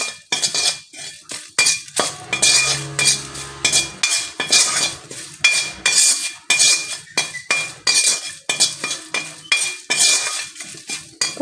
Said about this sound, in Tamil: அதனால் இன்னும் கொஞ்சம் நேரம் நம்ம இதை ரோஸ்ட் பண்ணணும்.